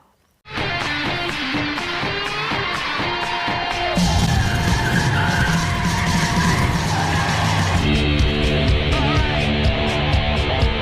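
A car in a prison-set racing film drives hard with loud, sustained tire skidding and engine roar that intensifies partway through, heard alone without talk.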